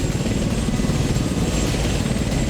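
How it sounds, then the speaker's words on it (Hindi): An IDF military helicopter returning from Lebanon comes in to land near a hospital in Haifa, its rotor making a loud, steady, throbbing roar that fills the whole stretch without a break. "आसमान में आईडीएफ के हेलीकॉप्टर उड़ान भरता नजर आया है"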